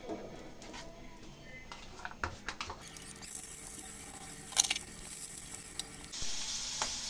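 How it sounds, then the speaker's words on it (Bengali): Onions with chili are frying in hot oil in a wok, a soft sizzle with intermittent stirring scrapes and clatter that grows louder and denser toward the end. "ঝাল পেঁয়াজ ভেজে নেব।"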